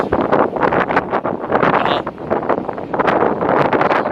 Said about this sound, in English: It's windy. Really windy.